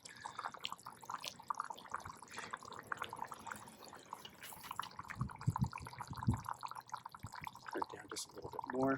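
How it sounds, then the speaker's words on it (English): Water simmers gently in a pot on an MSR Windburner camping stove, with faint, irregular bubbling and soft ticks under quiet background voices. "A nice light simmer."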